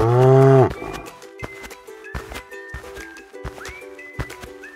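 Cattle on a farm give one loud, drawn-out moo close by, then quieter farmyard knocks, clatter and scattered animal sounds follow.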